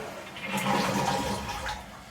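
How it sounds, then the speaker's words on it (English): A toilet flushes during a home inspection, a close, full rush of swirling water that swells and then tapers into draining and refilling, with no talking. "Flush the toilet."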